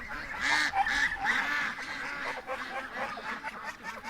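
Several geese honk repeatedly nearby, a cluster of loud nasal calls at first, then softer scattered honks continuing.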